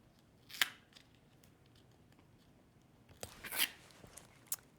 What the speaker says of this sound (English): I'm just going to trim around the edges to give it a nice round shape.